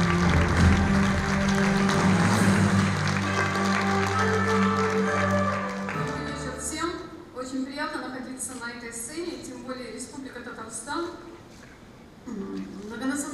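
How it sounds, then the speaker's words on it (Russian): Applause fills a journalism awards ceremony in Kazan, dense and steady for about six seconds before fading, after which a voice speaks over a quieter background. "Громче звучат овации, друзья!"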